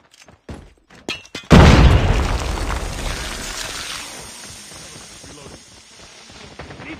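A Semtex grenade goes off in the Call of Duty Mobile video game: a few short clicks, then one loud, close blast whose rumbling, hissing tail fades over several seconds.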